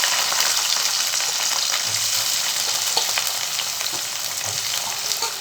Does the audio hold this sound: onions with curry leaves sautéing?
yes